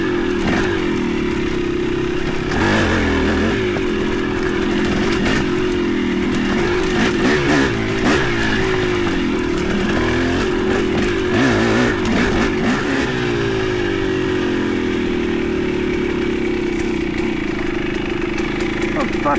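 A KTM motorcycle being ridden, its engine droning steadily and loudly throughout with small throttle swells and revs, while a rider's voice talks over it at times.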